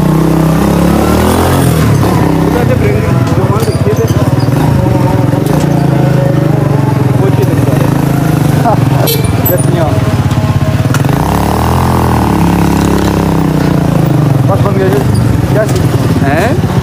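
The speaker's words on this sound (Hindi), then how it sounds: "तो गलियों में पहली बार चला रहा हूँ मैं बाइक" A motorcycle rides through the narrow lanes of Kotli city, its engine droning loud and steady throughout with shifts in revs, close to the rider, while a voice talks over it.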